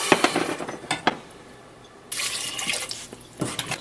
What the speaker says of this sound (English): We added the pineapples now with the 2 cups of water.